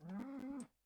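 A single cow moo in the South Park video game, one short, faint, tonal low call that rises slightly and then fades out quickly.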